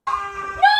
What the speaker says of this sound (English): that's the cat meowing.